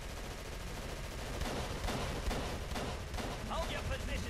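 Gunfire in the horror game Call of Cthulhu: Dark Corners of the Earth, a burst of sharp shots over rumbling game ambience, with talk in the clip.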